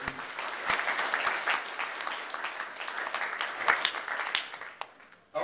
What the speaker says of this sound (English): and I'd like to give them a round of applause.